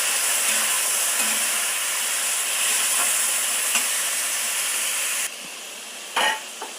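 Tomatoes fry in a pan for a vendaikkai masala rice, giving a steady close sizzle and hiss that drops away sharply near the end, followed by a brief clatter.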